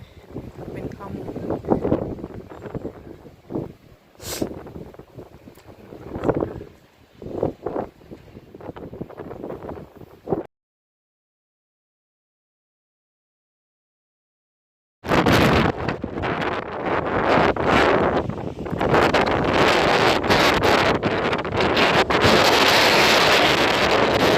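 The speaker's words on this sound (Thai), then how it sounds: "ลมแรงมาก" Strong wind buffets a microphone outdoors in Norway, gusting in rough bursts while someone talks, then dropping to silence before returning as a loud, continuous roar.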